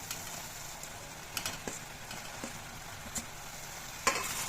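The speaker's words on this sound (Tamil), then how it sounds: "இப்போ காளான் ஆட் பண்ணியாச்சு. நம்ம நல்லா வந்து ஒரு மிக்ஸ் பண்ணி விடலாம்." Mushrooms stirred through masala in a hot pan for a restaurant-style mushroom gravy: a faint, low sizzle with scattered soft scrapes and clicks of a spoon, a louder clatter of stirring near the end.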